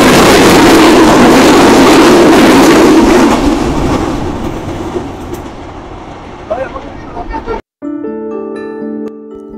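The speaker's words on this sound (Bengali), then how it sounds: "সুন্দরবন এক্সপ্রেস ট্রেনটি আবার ছেড়ে দিয়েছে তার গন্তব্য খুলনার উদ্দেশ্যে।" The Sundarban Express pulls away from a railway station in Bangladesh on its way to Khulna. A loud rumble and the clatter of wheels on the rails fade over several seconds, and then a brief tonal sound follows.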